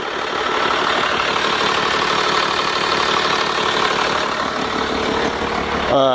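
Cummins diesel idling in a Ford F450 truck, a loud, steady mid-frequency rumble with regular knocking pulses, running alone without talk for the whole stretch.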